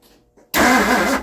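A starter motor cranks the tri-power engine of a Ford Sunliner, cutting in abruptly after a quiet moment and grinding loudly and continuously to the end.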